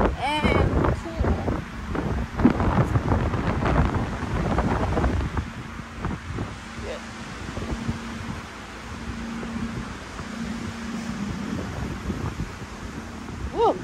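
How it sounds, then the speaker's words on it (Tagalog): Wind gusts at Malico in Pangasinan roar and buffet the microphone in a steady, heavy rumble, with a voice briefly heard early on. "It's windy and cool."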